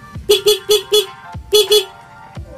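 A loud motorcycle horn honks in a quick burst of four short beeps, then a pause and two more beeps.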